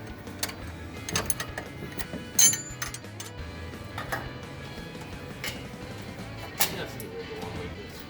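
Ratchet being worked on a squarebody truck suspension part, with scattered clicks and metallic handling noises in a workshop under intermittent talk.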